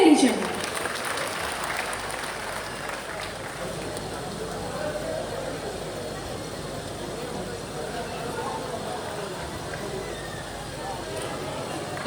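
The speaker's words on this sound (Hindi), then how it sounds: "और आपकी तालियां बजती रहनी चाहिए।" Steady, moderate crowd clapping at a festival in Gopalganj, India, holding an even level throughout with a diffuse, somewhat distant quality and faint background voices.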